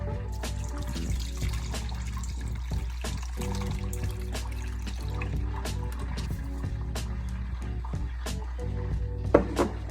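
Warm milk poured into a bowl while making homemade bread, a soft trickle with faint clinks over a steady low kitchen hum, fairly quiet with no talking.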